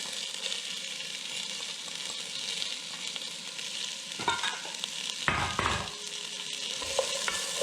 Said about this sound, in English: I'm going to add some onion and some diced leek.